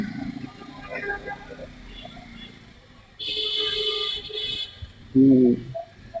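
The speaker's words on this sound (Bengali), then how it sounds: "হর্ন হর্ন আর হর্ন দিতেই থাকেন" Vehicle horns honk amid traffic: a sustained high-pitched horn blares for over a second, followed by a short, loud lower honk, with chatter and street noise around.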